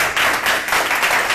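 Audience applause at a Thai talk event, a dense, loud burst of many hands clapping with no voices over it.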